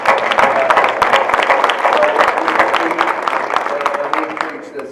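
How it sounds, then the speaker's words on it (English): An audience at a school district panel discussion applauds with brisk, dense clapping and some crowd murmur, tapering off at the end. "Let's give them a round of applause"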